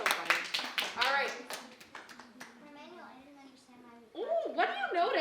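Schoolchildren in a classroom clap in quick bursts of sharp hand claps, loud at the start and again at the end, with children's voices and a teacher talking throughout.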